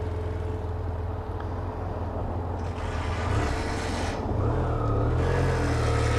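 A BMW F800ST motorcycle's engine runs with a steady, low, throbbing drone close by, while bursts of breathy rushing noise come and go over it.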